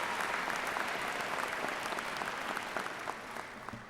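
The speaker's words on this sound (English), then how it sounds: "A round of applause." A crowd at the Grantham University 2012 commencement applauds steadily for a few seconds, dense and close, easing off slightly at the end.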